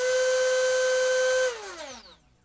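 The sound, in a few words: brushless outrunner motor of DeeRC 2104 RC car running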